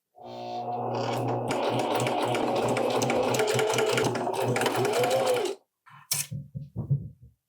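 A domestic sewing machine runs a steady, close stitching seam on cargo-style pants fabric for about five seconds, then stops abruptly, followed by a few clicks and handling knocks.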